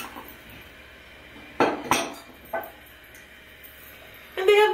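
White dishware bowls knock and clink together as they are handled, with a few sharp ceramic taps spaced over a quiet room tone and a final louder rattle.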